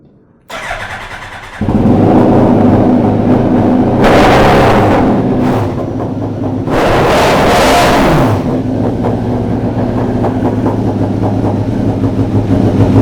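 A Ferrari engine built from scratch cranks over and catches, then revs hard in several loud bursts before settling into a rough, throaty idle, heard up close with no talking.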